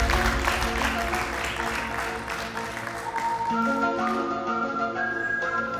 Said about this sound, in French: Applaudissements pour Victoria